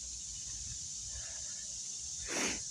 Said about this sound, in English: Only thing you hear is them cricket things or whatever those. Grasshoppers, crickets, something.